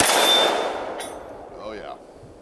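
A single loud gunshot from a Ruger Super Blackhawk .44 Magnum revolver, a sharp broadband blast decaying over a second, followed by a brief metallic clank and a short voice-like sound.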